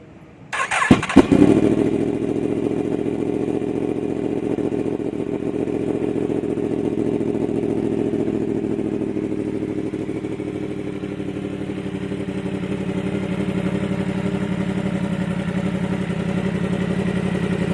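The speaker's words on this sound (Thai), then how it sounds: "อันนี้มาฟังเสียงท่อกันสักหน่อยนึงครับ ท่องานไทยนะฮะ" Yamaha R15 four-cylinder motorcycle with a Thai-made exhaust pipe, started close by with a brief clatter and then a steady, loud, low idle that holds to the end.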